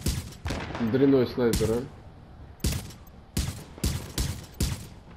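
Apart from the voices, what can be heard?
gunfire shooting snipers in video game Tom Clancy's The Division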